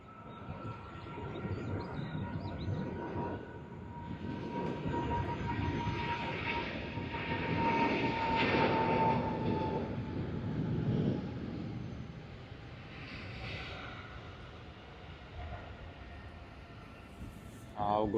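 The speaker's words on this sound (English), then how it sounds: "we have Japan Airlines to Haneda on its takeoff roll." A Japan Airlines Boeing 777 bound for Haneda rolls down the runway for takeoff at Sydney Airport, a distant, steady jet roar that swells and fades, fairly faint overall.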